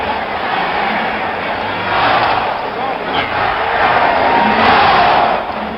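A large basketball crowd at the Oakland Coliseum Arena roars steadily through a 1975 Bulls vs Warriors game, a loud sustained wall of cheering and shouting with a broadcast voice faintly under it.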